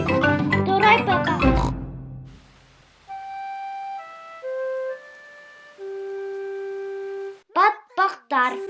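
The cartoon Peppa Pig family oinks among character voices, with snorting bursts at the start and again at the end, separated by a short, simple musical jingle.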